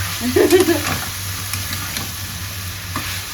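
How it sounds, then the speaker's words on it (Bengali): Spices sautéing in a hot pan for a Bangladeshi egg and chickpea-lentil dish, with steady close sizzling and frying hiss and a brief scrape of stirring at the start. "দেখ এখানে কষাতে থেকে আস্তে আস্তে"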